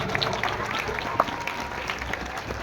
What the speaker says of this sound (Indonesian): Oleh karena itu tepuk tangan untuk SMA 2.